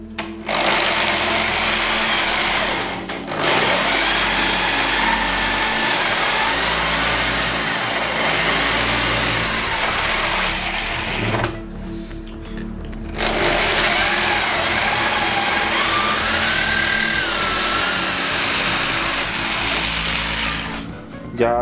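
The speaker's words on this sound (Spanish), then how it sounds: "asegurarme que la broca pueda hacer la perforación" An electric drill bores 12 mm holes in wood for dowels, a loud steady high-pitched motor whine with a brief stop near the middle before drilling resumes, with a voice heard faintly under it.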